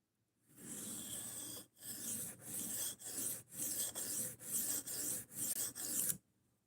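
A large Gerber knife being sharpened, its blade drawn across a stone in about nine steady rasping strokes, each separated by a brief pause, close and clear with no talking.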